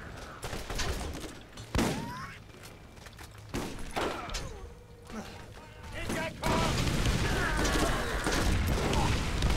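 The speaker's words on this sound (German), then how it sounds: "ich liebe Machine Gun" Rapid bursts of machine gun fire and explosive blasts from the Borderlands shooter game. They ring out loud and broadband, broken by brief lulls, while people talk over the action.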